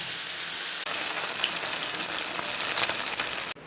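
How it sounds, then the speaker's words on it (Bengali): Bhola fish seasoned with salt and turmeric frying in hot oil in a kadai, a steady dense sizzle that runs without a break and cuts off sharply near the end. "মাছ ভাজা হয়ে গেছে"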